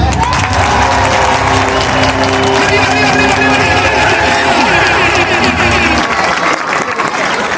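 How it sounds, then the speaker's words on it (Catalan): Parents in the stands at an athletics club presentation clap loudly and steadily, a thick crowd roar with cheering mixed in and music tones running underneath, easing off near the end. "todos los papas y mamas se ponen a aplaudir"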